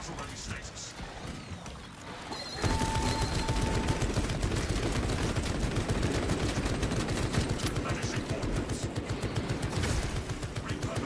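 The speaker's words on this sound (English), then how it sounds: "Kill 25 enemies with a sentry turret" Sentry turret in Space Marine 2 opens up after a short quiet start, pouring out sustained rapid automatic fire for about eight seconds, loud and dense with battle clatter around it.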